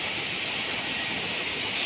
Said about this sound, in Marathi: बाहेर खूप पाऊस पडतो